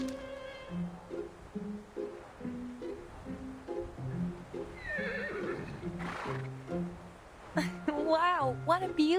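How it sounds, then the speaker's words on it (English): A horse whinnies near the end of a narrated audio drama scene set by a windmill, its rising and falling neigh clear over a soft melodic music bed, with hoof clip-clops and brief talk beforehand. "Sounds like a horse to me."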